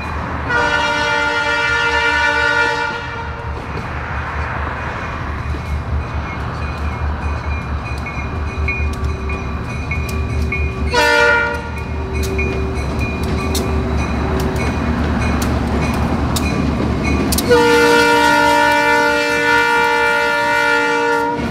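An SD60M-led freight train rumbles past close by in Cincinnati, Ohio, its horn sounding loudly in long blasts at the start, again midway, and near the end.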